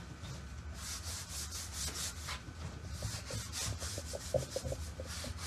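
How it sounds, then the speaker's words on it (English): A paint scraper scrapes paint off a reverse decoupage piece, making quiet, repeated rasping strokes in an uneven rhythm, close by, with no one talking. "it is a paint scraper, not a green scraper. I want the white underneath to pop out."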